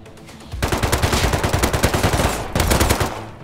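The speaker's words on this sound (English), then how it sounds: "Oh my God, I'm being shot at too." Rapid automatic gunfire in the game Rust, loud close bursts of evenly spaced shots firing in quick rhythm, a brief pause, then another burst, with no talking.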